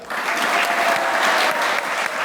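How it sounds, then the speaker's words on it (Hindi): A studio audience at a televised talk show bursts into dense, sustained applause, loud and even throughout with no gaps and no voices on top. "वेरी गुड, तालियां।"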